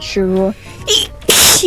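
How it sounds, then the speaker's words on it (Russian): One loud, close sneeze bursts out near the end, after brief talking, during a session of the Roblox horror game Slaughter. "Будь здоров."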